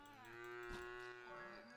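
A single long, low cow moo from a video game in Craftopia, clear and fairly close, with a steady pitched drone throughout and no talking.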